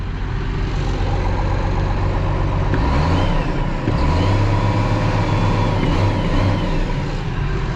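Diesel engine of a Case Magnum 310 tractor revving, a steady loud low rumble that swells in bursts around the middle as the throttle is blipped, with no talk over it.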